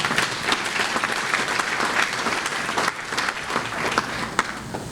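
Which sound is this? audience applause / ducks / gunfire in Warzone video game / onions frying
audience applause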